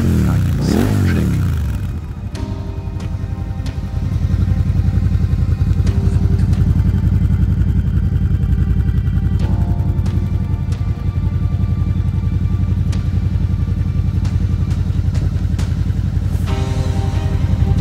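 A 2020 Suzuki SV 650 motorcycle with a Storm GP exhaust idling close by after a quick rev at the start, a loud steady deep rumbling burble throughout, with a few light clicks and no talk.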